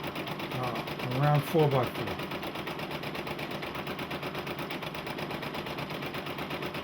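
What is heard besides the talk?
Brother PE-770 embroidery machine stitching a design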